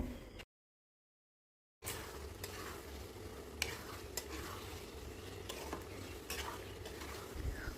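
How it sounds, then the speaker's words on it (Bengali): Boiled besan vegetable pieces are stir-fried with spices in a pan, a steady sizzle under repeated scraping clinks of a spatula, close by, after a brief silent break at the start. "এখন মশলার সাথে এই বেসনের সবজিগুলোকে আমরা আরও 3 থেকে 4 মিনিট কষিয়ে নেব।"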